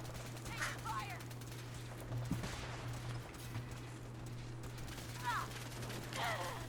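Gunfire rattles in Fallout 4 in quick bursts of shots over a constant low electrical hum, with game voices shouting between volleys.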